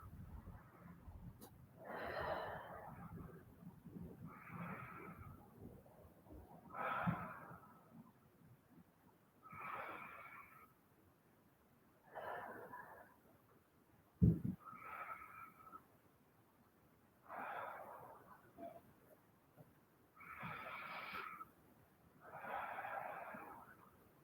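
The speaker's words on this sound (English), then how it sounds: "Just take a few breaths here in child's pose." Slow, deep breathing in yoga child's pose: about nine evenly spaced soft breaths, each a gentle airy whoosh, close and quiet with calm gaps between them.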